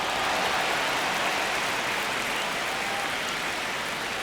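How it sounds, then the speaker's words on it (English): Steady stadium crowd roar from an MLB The Show baseball video game, Dodgers versus Rockies in the ninth inning, a dense even wash of noise holding at constant loudness throughout with no voices on top. "Crowd locked in right now."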